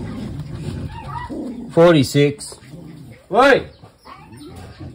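Dogs in heat let out a few sharp, high yelping barks in two short bursts, loud and near, while someone talks over them.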